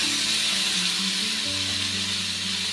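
Tomatoes frying in a pan with onions for a soya chunks gravy, giving a steady, close hiss of sizzling oil that holds evenly throughout without any talk.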